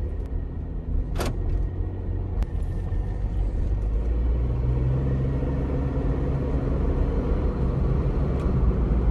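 A Jeep Wrangler JK drives around the block with a low, steady engine rumble and road noise throughout, heard from inside, with a brief click early on.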